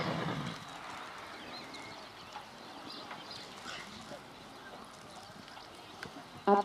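Horse hooves clip-clop at a Haflinger tournament in Gunzenhausen as riders circle the arena. The steps are faint and distant, set against a steady ambient wash, and a louder knock comes near the end.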